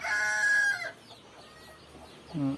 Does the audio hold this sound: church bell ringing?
no